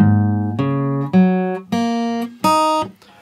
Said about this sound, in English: My guitar is tuned down a semitone